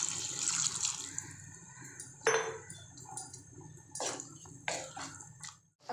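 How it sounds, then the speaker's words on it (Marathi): Water poured into a pan of vegetable curry, with splashing bursts and gurgling pours coming in several short surges close by, with no talk. "पाणी ॲड करायचं आहे।"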